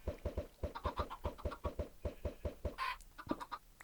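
Minecraft chickens cluck in a quick, even rhythm of short repeated sounds, fairly faint and steady, with no speech.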